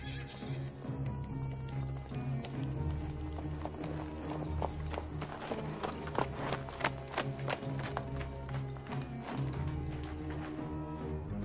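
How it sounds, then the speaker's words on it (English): Horse hooves clip-clop in a steady rhythm over a low background rumble, with a horse whinnying partway through. "You ever rode a horse before, Lori?"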